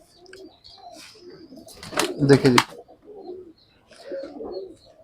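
A pigeon of an old preserved breed, kept with its mate, makes soft cooing calls close by, partly under a voice speaking Hindi.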